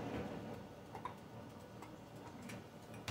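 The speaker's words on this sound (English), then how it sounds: "He hear me tapping this thing." Light, irregular tapping on a container in a home kitchen during mushroom powder preparation, soft clicks over a low background hum, ending in a sharper tap.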